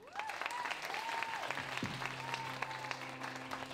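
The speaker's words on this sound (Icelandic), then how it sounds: "Gefðu henni gott klapp" A crowd claps steadily over a sustained musical tone with some whoops at a singing competition, lively applause of moderate loudness throughout.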